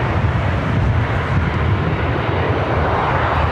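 Airliner jet engines at LAX airport, a steady loud broadband roar with heavy low rumble held evenly throughout, no voices.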